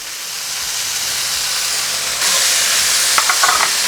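Red bell pepper, garlic and New Mexico hatch chilies sizzle steadily in a pan, a loud, constant hiss that swells after a couple of seconds, with a few light clinks of a utensil near the end.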